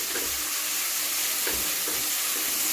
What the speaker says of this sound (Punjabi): ਹੁਣ ਆਇਲ ਰਿਲੀਜ਼ ਹੋਣ ਤੱਕ ਤੜਕੇ ਨੂੰ ਬਹੁਤ ਵਧੀਆ ਭੁੰਨਣਾ ਹੈ